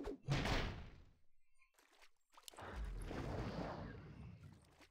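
Bad Rider units blow up in a Warcraft III match, producing two heavy booming bursts: a sharp blast at the start and a longer rumbling explosion after a brief gap.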